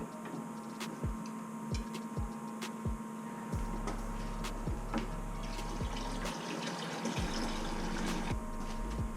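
A pump circulates cleaning mixture through the coil of a Navien NCB 240 combi boiler, giving a quiet steady hum with running liquid, while a low throbbing cuts in and out and faint periodic clicks and ticks sound throughout.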